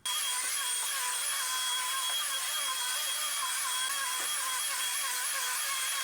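A steady, continuous motor whine with a high wavering tone, like a small vacuum cleaner running close by at constant loudness, no voices.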